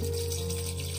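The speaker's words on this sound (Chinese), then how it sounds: "加水" Water pouring steadily into a pot of washed rice before steaming, a continuous close rushing splash that runs the whole moment without pause or talk.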